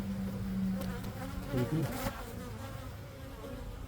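Honeybees buzz steadily and close throughout a hive inspection in mid spring, a dense insect drone with one brief spoken remark near the start.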